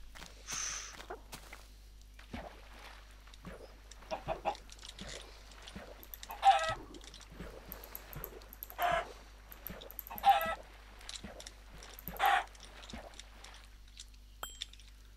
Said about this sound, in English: Oh, chicken. I got chicken.